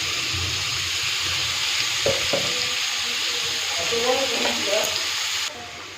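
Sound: potatoes frying in oil

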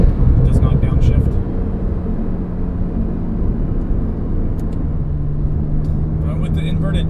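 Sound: COBB-tuned PDK car engine accelerating full throttle in third gear

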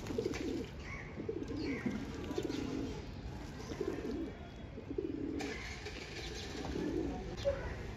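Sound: pigeons cooing

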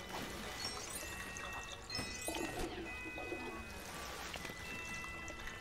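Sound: character swimming in water, Lego Batman video game

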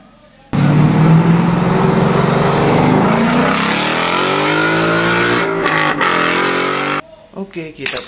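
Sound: yellow toy race car sound

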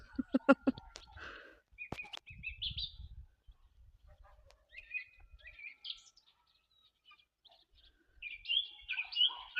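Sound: guinea fowl clamoring

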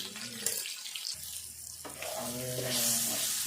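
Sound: potatoes frying in a pan with salt and turmeric

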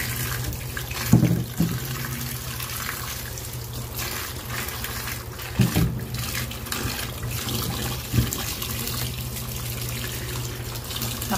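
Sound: water running while washing cucumbers

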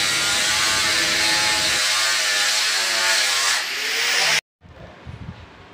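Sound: sandpaper grinder smoothing wooden showcase joints

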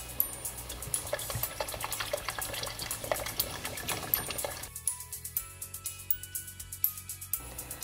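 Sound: water being added to rasam pot

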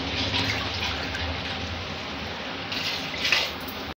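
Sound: pouring 4.5 glasses of water into rice for cooking

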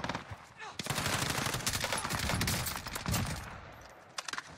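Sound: gunfire in Call of Duty Warzone, a video game

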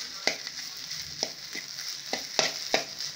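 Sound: sautéing ground onion, ginger and garlic paste in a pan

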